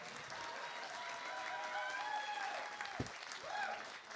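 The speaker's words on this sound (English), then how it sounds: "It says here, hold for applause." Applause from a live music audience at a small arts-centre show fills the room steadily, with broadband clatter of many hands and a few voices and whoops mixed in under the clapping.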